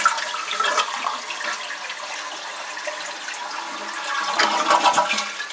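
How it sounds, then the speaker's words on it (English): A toilet flushes after its flapper chain has been adjusted for a longer flush, with a rushing swirl of water that swells again toward the end as the tank empties into the bowl. "You can see we get a longer flush, more water moves from the tank to the bowl"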